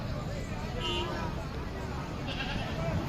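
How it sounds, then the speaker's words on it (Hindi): Goats bleating at a busy livestock mandi in Lahore, a couple of short bleats rising over loud crowd chatter and people talking nearby. "आगे एक ये बकरी है, इसके साथ ये बच्चे हैं।"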